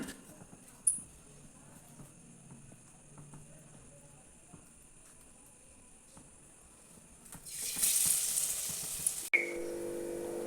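Battered bread pakoda dropped into hot oil in a kadai: a quiet kitchen backdrop, then a sudden loud hissing sizzle that swells for a couple of seconds before cutting back.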